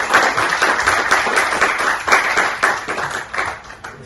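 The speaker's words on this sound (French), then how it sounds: "vous méritez des applaudissements" An audience at a conference on urban trees breaks into a round of clapping, dense and steady for several seconds before tapering slightly toward the end.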